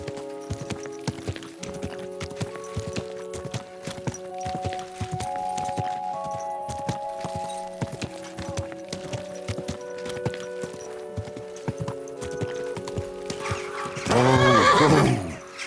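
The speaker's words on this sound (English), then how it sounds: "Easy, good horse." Horse in the video game Kingdom Come Deliverance 2, with steady clip-clopping hooves throughout and a loud, close whinny near the end over faint background game sounds.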